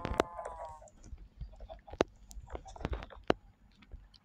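Chickens in a video game cluck and squawk in short bursts amid sharp clicks and thumps, with a voice speaking briefly in the mix.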